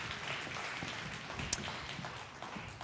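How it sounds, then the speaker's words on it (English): Audience applause at an aviation safety and security conference, a steady wash of clapping from a seated crowd lasting the whole stretch at moderate loudness. "A warm round of applause, please."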